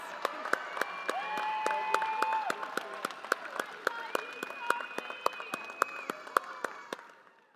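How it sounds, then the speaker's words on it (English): Audience applause at a university engineering commencement ceremony, a steady sustained clapping from a large crowd in a reverberant hall, with tonal background music running underneath before fading at the end. "thank them and give them a round of applause."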